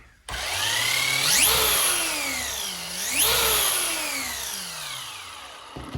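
Traxxas Drag Slash RC car motor spinning the wheels up at a slow setting, a close electric whine that rises and falls in pitch twice over a steady mechanical hum.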